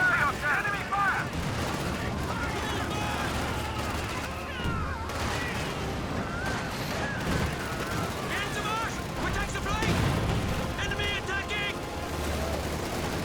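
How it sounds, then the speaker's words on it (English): Dense battlefield gunfire and artillery from the Company of Heroes 2 strategy game, with shots, bursts and explosions rolling continuously for the whole stretch while a commentator talks over the action. "Enemy fire."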